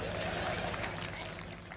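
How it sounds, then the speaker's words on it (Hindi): Audience at a Netsurf seminar bursts into brief applause, a dense wash of clapping filling the room at moderate loudness, with no pause or single claps standing apart. "इनके लिए जोरदार ताली।"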